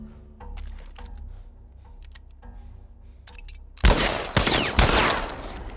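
Gunfire from The Last of Us Part 1 game combat: a quiet stretch of faint clicks and ambient tones gives way to a loud burst of several close shots near the end, echoing tails between them.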